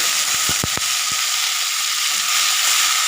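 Dried shrimp fry in a pan, giving a steady, close sizzling hiss throughout, with a few sharp utensil knocks near the start.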